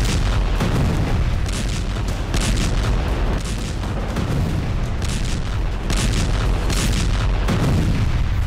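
Explosions near the Isfahan nuclear center in Iran: repeated heavy booms and rumbling blasts roll in succession across the whole stretch, loud and dense with no voices.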